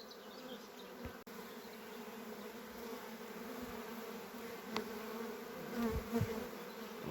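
A swarm of honey bees hums in a steady, dense buzz outdoors, with brief louder passes as individual bees fly near, and no talking.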